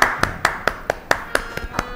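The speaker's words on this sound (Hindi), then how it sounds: "तो इनके लिए फिर ज़रा सी तालियां तो बजा दें।" Slow, sparse hand claps at a talk program, about ten distinct sharp claps at an even rhythm over two seconds, close and fairly loud, like a small audience or a single pair of hands applauding the team.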